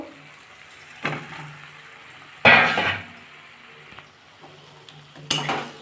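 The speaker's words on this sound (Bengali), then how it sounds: "আমি এবার এর মধ্যে আলুগুলো ভেজে রাখা আলুগুলো দিয়ে দেবো" Fried potatoes go into a tomato-based masala for a Bengali bhetki fish curry, giving a few scattered stirring scrapes and clatters of a utensil against the pan over a low sizzle, with one louder burst of frying noise in the middle.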